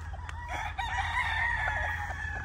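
A gray gamefowl broodstag rooster crows on a farm, one drawn-out cock-a-doodle-doo that rises and holds, fairly near, over a low steady background hum.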